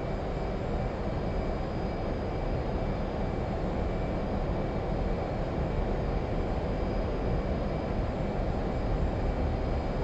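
An F/A-18C Hornet jet in the DCS World flight simulator gives a steady, loud, unbroken engine roar with no speech over it.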